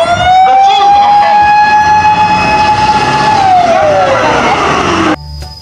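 A toy fire truck's electronic siren wails loudly and steadily with a bright tonal sweep, dropping in pitch near the end before cutting off abruptly.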